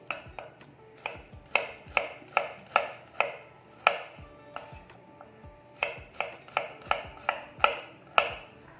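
A knife slices through a white onion on a cutting board, making about twenty crisp, evenly spaced chopping strokes in a quick steady rhythm, close up with no talking.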